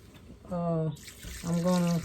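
Water is poured and rinsed in a kitchen while sea moss is prepared for gel, with soft splashing and trickling beneath a person's voice.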